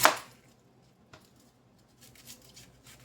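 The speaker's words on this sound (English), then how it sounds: "going to be dicing these up. 4 big onions" A knife chops once, sharp and close, through big onions on a cutting board, followed by a faint second tap and then near quiet.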